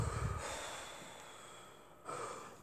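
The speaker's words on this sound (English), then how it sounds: "Go on, everybody, take a deep breath," A church congregation at a deliverance service draws a deep breath and lets it out together: a soft, breathy rush at the start, a long hushed stretch, then another exhale near the end.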